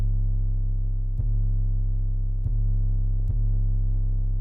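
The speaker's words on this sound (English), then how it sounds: "now I'm going to play it with the distorted 808 just with the reverse on" A distorted 808 bass with a reverse effect drones as a heavy, sustained low tone, with brief clicks where the notes change, loud and alone without any voice.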